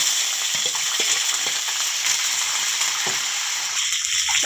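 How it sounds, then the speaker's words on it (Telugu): Chillies fry in hot oil for a raw mango pulihora tempering, a bright, continuous sizzling hiss with small crackles and pops, close and steady, with no one talking. "మిరపకాయలు వేస్తున్నా"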